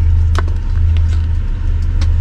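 Car approaching outside a tunnel, a loud low engine rumble droning steadily throughout, with faint scattered clicks above it.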